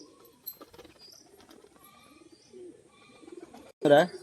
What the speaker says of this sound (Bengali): আপনারা দেখলেন পায়রাটা একটা বাজি করলো